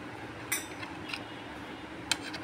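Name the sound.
dry spices being mixed with water in a bowl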